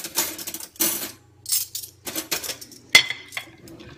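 Metal utensil stirring and scraping in a pan while cooking a spicy dish, with irregular clinks and scrapes, a sharp knock near the end, and brief quiet gaps between strokes.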